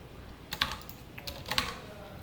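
Python code being typed on a computer keyboard: two short clusters of quick key clicks about a second apart, close and fairly faint over a quiet background.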